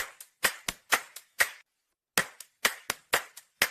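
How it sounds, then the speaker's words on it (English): Sharp, close hand claps ring out in two quick clusters of about six and seven claps, separated by a short pause, with no voices. "I clap my hands."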